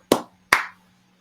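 Two sharp, separate claps about half a second apart sound close and crisp against a quiet room during a podcast recording, with a faint steady hum underneath.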